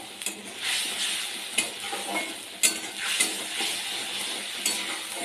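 Ginger and spice paste sautéed in a pan for chana dal, a steady hiss of frying with scraping stirs and occasional clinks of a utensil against the pan.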